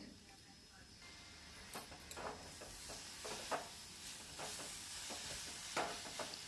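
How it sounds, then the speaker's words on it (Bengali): Jaggery being stirred in a pan for amla pickle, giving soft scraping strokes and faint sizzling hiss at a moderate, irregular pace. "গুড়টা ভালোভাবে নাড়াচাড়া করে দিলেই জল এর মধ্যে থেকে বেরিয়ে যাবে"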